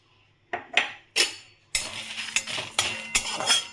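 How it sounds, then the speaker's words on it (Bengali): Fennel, coriander and cumin seeds with dried red chillies are stirred in a dry pan, producing a few sharp metallic clinks and scrapes, then a dense rattling, scraping stir with repeated spoon knocks, close and moderately loud with no talking. "এটা আমি শুকনো খোলায় ভেজে নেবো, এই যে গরম করে নেব।"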